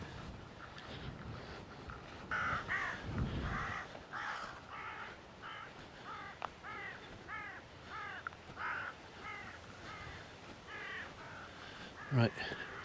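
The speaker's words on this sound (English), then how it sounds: "there's still a lot of cawing going on. Some very unhappy crows." Several crows caw repeatedly in a steady series of harsh calls, fairly close, with light wind noise and a person speaking quietly in between; the birds are upset, with a buzzard nearby on a farm.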